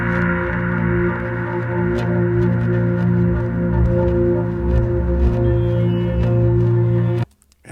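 A sustained synthesizer drone with heavy reverb and widened stereo holds a steady low chord with soft higher overtones, playing loud and unbroken for about seven seconds before it cuts off abruptly near the end.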